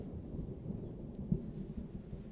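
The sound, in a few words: thunder sound effect in video game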